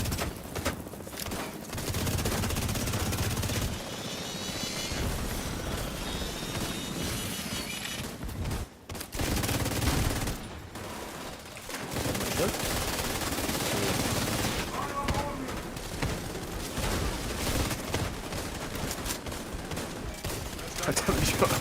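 Sustained automatic gunfire and bursts of shots in the shooter game The Division 2, loud and dense across the whole stretch, with explosions mixed in and players talking over the combat.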